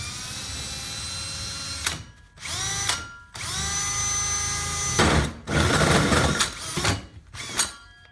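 A power drill bores a pilot hole through a wall for a Mitsubishi mini split install, whining steadily at close range with several brief pauses and restarts as the bit speeds up and slows.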